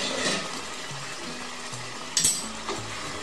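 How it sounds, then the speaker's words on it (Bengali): Hot water is poured into a pan of spiced banana flower frying in masala. A loud, steady hiss and sizzle is heard close up, with a sharp splashing burst partway through and no voices. "এদিকে আমার জলটাও গরম হয়ে গেছে, তো সামান্য জলও দিয়ে দিচ্ছি।"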